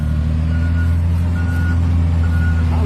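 A truck spreading liquid animal manure drones with a loud, steady low engine rumble, while faint reversing beeps repeat at an even rhythm over it.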